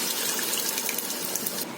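Water pours steadily into a pressure cooker holding fried mutton and soaked lentils for haleem, a continuous, bright splashing gush lasting throughout, close and fairly loud, with no talking.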